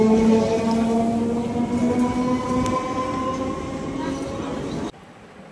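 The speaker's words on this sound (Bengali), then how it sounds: "উঠেই নেমে পড়েছি ট্রেন থেকে" A train runs as a steady mechanical rumble with a droning tonal whine, heard from on board or close by. The noise stays strong for about five seconds, then cuts off abruptly.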